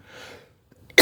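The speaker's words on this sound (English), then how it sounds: "Still with the cough." A single loud, close cough bursts out at the end after a soft, faint breathy stretch and a brief pause, with no talking around it.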